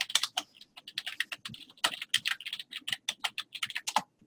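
Rapid, irregular keystrokes on a computer keyboard, close and fairly crisp, clattering steadily without pause and with no voices.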